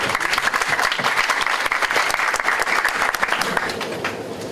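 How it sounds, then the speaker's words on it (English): An academic workshop audience gives a speaker a round of applause, a loud, close, steady patter of many hands clapping that tapers slightly at the end. "join me in a round of applause for the speaker"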